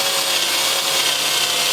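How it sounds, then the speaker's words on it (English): A hand reamer opens an 8mm hole that was already drilled to 7.9mm, giving a loud, continuous grating scrape of metal cutting that stays steady throughout. "I decided to ream the hole by hand."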